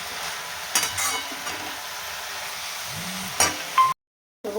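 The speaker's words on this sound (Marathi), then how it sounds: "आता हे तेलामध्ये ना छान परतून घ्यायचं" Spring onion greens sizzle softly in hot oil in a pan, a faint steady frying hiss broken by a few clinks and stirring sounds, quiet and close, with no voices.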